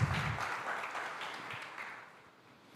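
A church congregation applauds in a diffuse, steady wash of clapping that starts strongest and slowly tapers over a few seconds, fairly quiet and distant with no voices on top.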